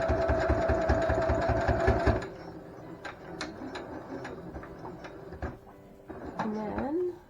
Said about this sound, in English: So then you keep sewing along that edge.